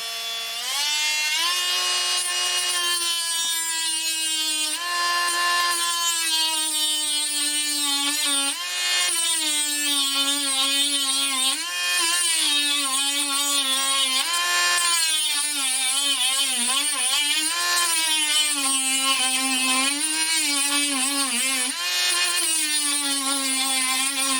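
A power tool cuts off the excess end of a threaded rod on an old cabinet lock clamped for repair, a loud continuous whine with wavering pitch lasting the whole stretch.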